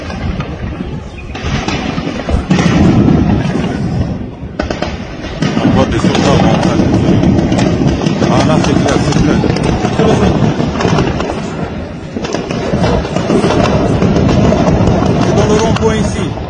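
Street in Conakry during a coup, with loud sharp bangs of gunfire scattered throughout amid constant wind-blown outdoor noise and broadband rumble; a voice is faintly present.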